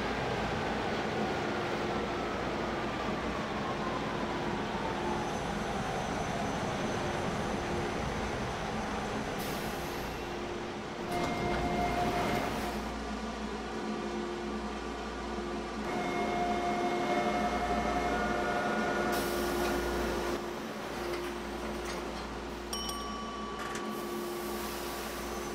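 A TTC H6 subway train runs along Line 2 Bloor-Danforth in Toronto near Chester Station, with a steady loud rumble, whine and rattling throughout, plus brief tonal squeals from the wheels or motors, heard from inside the car.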